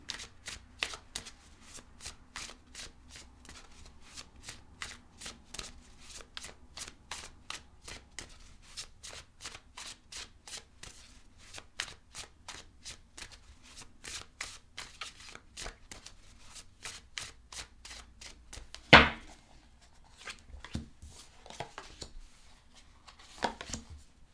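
Tarot cards are shuffled over and over at close range, producing a long run of quick, crisp riffling bursts. A louder thump comes near the end, then the rhythmic shuffling resumes.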